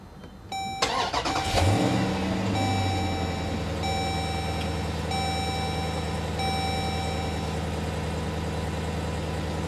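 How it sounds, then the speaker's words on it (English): A 2014 Jeep Grand Cherokee SRT fires up with a quick starter whir and sharp exhaust flare, then settles into a deep steady idle, accompanied by a brief dashboard chime tone repeating in the background. "Just put your foot on the brake and hit the button to start."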